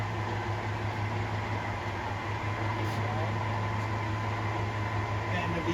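An engine lathe, model D-20x60, runs its spindle with a steady, even machine hum and a constant drone that holds unchanged throughout, close by and fairly loud.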